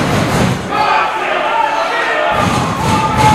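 A crowd at a WrestleRave wrestling event murmurs and calls out as a wrestler climbs the top rope, a dense, continuous roar with a few dull thuds.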